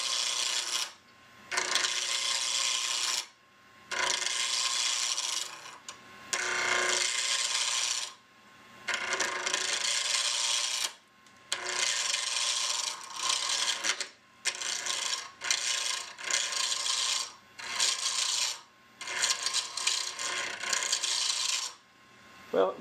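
A turning tool slides across a spinning wooden blank on a lathe, knocking off corners for a compact key ring knife: loud rasping, scraping bursts in repeated passes of one to three seconds, separated by short pauses, with the tool bouncing.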